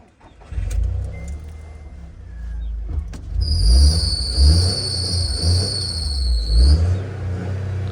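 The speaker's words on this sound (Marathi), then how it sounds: "गाडी चालू कर." A car engine turns over and catches, then runs with a rough rumble and some revving, close and loud, with a high whine over the idle.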